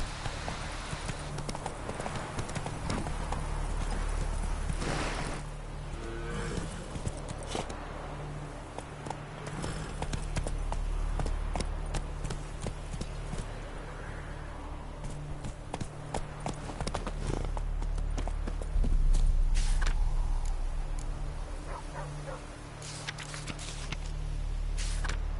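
Roach the horse's hooves clip-clop steadily across ground in The Witcher 3, a near, continuous rhythmic trotting over a low ambient bed, with a few brief spoken words mixed in.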